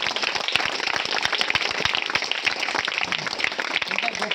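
An audience at a charity event gives a sustained round of dense, evenly loud applause in honour of the Joyalukkas organisation, with no voices over it.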